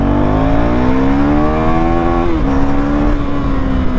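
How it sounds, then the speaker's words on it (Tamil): Husqvarna Svartpilen 401 motorcycle pulling hard in second gear, its exhaust droning loud and steady with a rising pitch, a brief dip as the throttle shifts midway, then climbing again. "ப்ளஸ் எக்ஸாஸ்ட் நோட் கேளுங்க."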